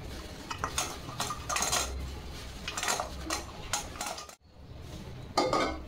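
A spoon or spatula scraping and clinking against a pan while fried sweet shev is mixed, giving repeated close metallic stirring scrapes with a short pause near the end and no voices.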